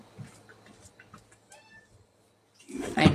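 A house cat lets out a short, faint meow in a quiet room while begging for pizza, followed by a sudden louder rustling burst at the end.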